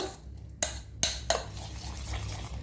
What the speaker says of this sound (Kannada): ಇದನ್ನು ಚೆಂದ ಮಾಡಿ ನಾವು ಬೀಟ್ ಮಾಡುವ.